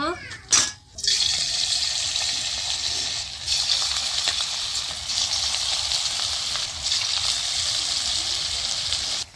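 Cabbage pakoras deep-fry in hot oil, a continuous bright, bubbling sizzle that stays loud and even at close range, opening with a brief clatter.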